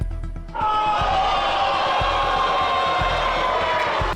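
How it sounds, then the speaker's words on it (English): Studio audience booing a guest on a talk show, a sustained loud collective jeer that swells in after a brief quieter moment and holds steady, with a rhythmic low thumping beat underneath. "They just started booing, oh my god."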